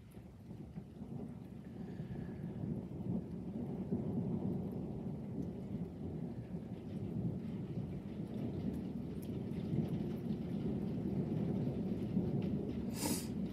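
Steady rain falls through a spring thunderstorm with lightning while thunder rumbles low and continuous beneath it, ending in a sharp crack near the end, all without talk.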